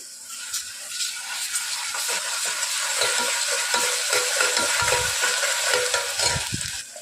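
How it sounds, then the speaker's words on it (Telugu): Ginger garlic paste frying in hot oil for a mutton and stuffed brinjal curry, a steady close sizzle with scraping stirs and soft clicks of a spoon against the pan throughout. "అల్లం వెల్లుల్లి పేస్ట్ యాడ్ చేసుకోవాలి పచ్చివాసన పొయ్యేంత పోయేంత వరకు బాగా ఫ్రై చేసుకోవాలి"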